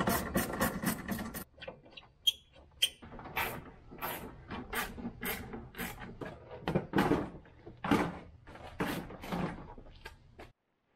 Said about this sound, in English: let's pull off the bumper